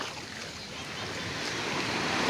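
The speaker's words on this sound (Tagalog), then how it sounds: "Medyo malaki ang gulong ngayon ng ating dagat. Pero ang alon, hindi sabog." Rough sea waves roll and wash near a fishport, a broad, steady surf roar with wind noise across the microphone, gradually building in loudness, with no talk.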